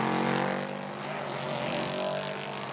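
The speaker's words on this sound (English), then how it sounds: "Love the sound of those V8s, Jeremy." V8 engines of race cars during qualifying at Sebring, a loud, sustained engine roar with tonal harmonics that dips slightly and swells again as cars pass.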